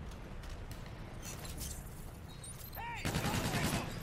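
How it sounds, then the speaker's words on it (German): Gunfire in the video game Call of Duty Infinite Warfare, rapid bursts of shots over a busy noisy game soundscape with chirping electronic effects, growing denser and louder near the end. "Schießen auf Zivilisten"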